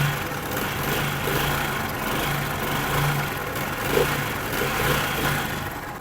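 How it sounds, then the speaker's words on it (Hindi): Chinese-made motorcycle with a worn clutch bearing idles close by while the clutch is held in, a steady low engine chug carrying a faint continuous whine, no voices. "जैसे ही इस बाइक का क्लच प्रेस करते हैं इंजन की आवाज़ चेंज हो जाती है, इंजन में शूकर की आवाज़ आती है।"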